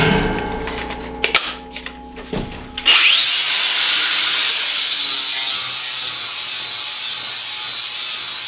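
A Bauer cordless brushless angle grinder on a 3 amp hour battery, a few clicks and handling knocks followed by the motor spinning up to a loud, steady high-pitched whine that runs continuously.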